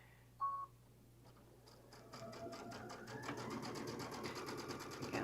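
A sewing machine stitches patchwork fabric for a boho bag, starting after a brief beep and building into a steady, close, rapid mechanical whir that runs on without talk.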